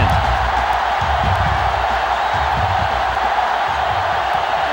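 Stadium crowd noise in the NCAA Football 2005 video game, a loud, steady roar of a large crowd with a dense, unbroken wash of cheering throughout.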